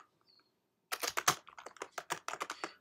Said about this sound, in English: typing a name for this PDF